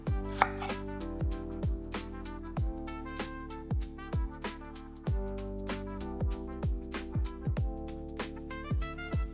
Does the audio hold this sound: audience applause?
no